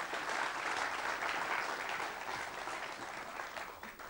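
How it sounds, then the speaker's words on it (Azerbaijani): A game show studio audience on the Azerbaijani quiz show Milyoncu breaks into loud, sustained applause, a dense wash of clapping that gradually tapers off near the end. "Yenə də gürültülü alqışlar"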